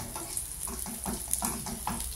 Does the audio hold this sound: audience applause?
no